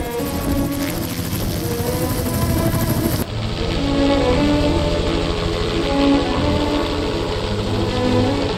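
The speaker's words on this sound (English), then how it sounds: "Watching the helicopter move the trees are just so exciting." A helicopter airlifting freshly cut Christmas trees on a tree farm, its steady rotor thrum and turbine whine filling the air loudly and continuously, with a sudden shift in tone partway through.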